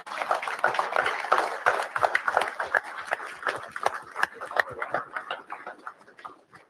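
Crowd applause at a live race drivers' meeting honoring military veterans: brisk, uneven clapping from a gathering, with talk and other voices mixed in, fading out toward the end.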